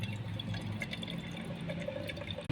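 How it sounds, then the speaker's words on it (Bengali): Green coconut water pours from a young coconut into a mug, a steady, soft liquid stream running continuously, with faint trickling and a small bump at the end. "তো আমি এই দেখো মগের ভিতরে জলটা ডাইলা নেই।"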